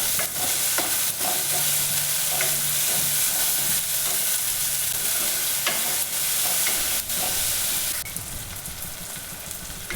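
Onion and then tomato are stirred into hot tempering for a village-style pithla, sizzling steadily and close by, with repeated scraping stirs and spatula taps over a constant frying hiss.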